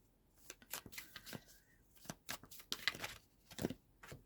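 Tarot cards are shuffled and drawn by hand, giving a close, quiet run of crisp riffling flicks and soft slaps in irregular bursts, with no voices.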